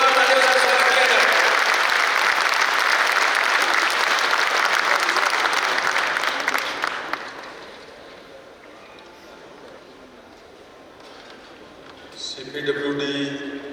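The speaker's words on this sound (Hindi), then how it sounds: "तो ये हमारे परिवार से जुड़े हुए जोरदार तालियों से स्वागत किया जाए।" Hall audience at a CPWD Engineers Association platinum jubilee event gives loud sustained applause for the minister for about seven seconds before it fades, followed by a voice speaking over the microphone.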